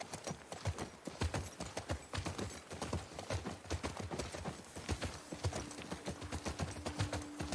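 Horse hooves clip-clop in The Last of Us Part II, a steady brisk walking rhythm of close, sharp clops, with a faint tone entering near the end.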